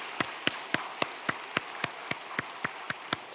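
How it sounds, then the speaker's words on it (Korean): A slow, steady rhythm of about a dozen sharp claps rings out in a church congregation glorifying God, each clap distinct and evenly spaced with a light background hiss between them. "더 큰 박수로 하나님께 영광 올리시겠습니다"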